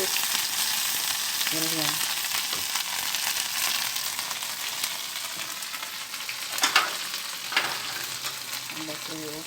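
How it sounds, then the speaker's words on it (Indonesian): Washed anchovies frying in oil in a wok, a steady dense sizzle throughout with occasional stirring scrapes and clinks; a voice speaks briefly. "Dimasukkan ikan teri yang sudah aku cuci bersih ke dalam wajan, digoreng sampai kriuk"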